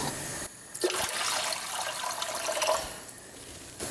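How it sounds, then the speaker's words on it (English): Water poured into a cooking pot holding stock and syrup for Sicilian-style tripe, a steady close splashing stream lasting a few seconds, quieter at the start and end. "add some water"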